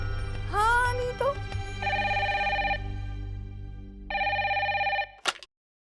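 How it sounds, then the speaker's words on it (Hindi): A telephone rings in two bursts of electronic ringing, fairly close and loud, in a Hindi TV drama household scene, with a voice and other vocal sounds just before the first ring. "अर्नव जी का फोन था"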